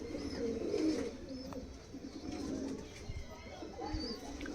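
Giribaz pigeons in a loft give soft, low coos that rise and fall over a murmur of background voices and faint chirps, the birds sounding close and continuous.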